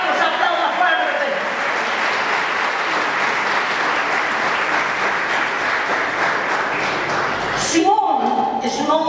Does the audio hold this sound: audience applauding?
yes